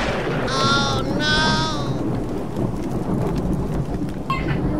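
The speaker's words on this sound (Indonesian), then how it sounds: "petir." Thunder rolls as a deep, continuous rumble under steady rain during a rainstorm, and a bleating animal cry rises near the start, with no one speaking.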